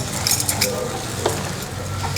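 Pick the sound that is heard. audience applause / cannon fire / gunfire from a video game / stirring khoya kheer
stirring khoya kheer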